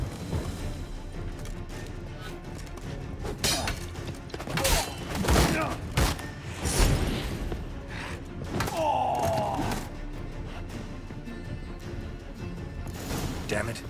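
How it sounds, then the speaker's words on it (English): An explosion in The Witcher 3 video game, heard as a cluster of heavy booms and thuds in the middle of a busy game soundscape, with a voice talking over the action. "Damn it, explosion triggered that fight."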